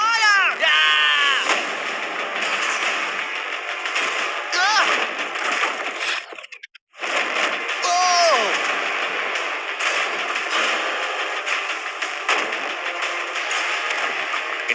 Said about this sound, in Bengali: Chandler, fire!